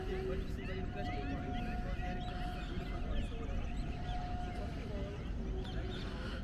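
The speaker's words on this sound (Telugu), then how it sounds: "ఇక్కడ బర్డ్స్ చాలా ఎక్కువ ఉన్నాయి. సో అవి అరిచే సౌండ్" Many birds call and chatter together, honking and squawking over a constant low rumble of background noise.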